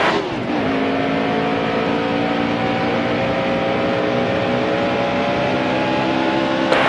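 A race car's engine holds a loud, steady high-revving whine with layered harmonics, pitch climbing gradually as it runs close by without pause.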